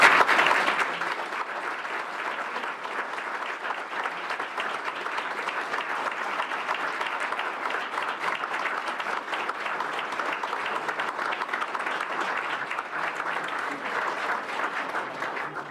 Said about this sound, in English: So please help me in giving these guys a round of applause as we pass.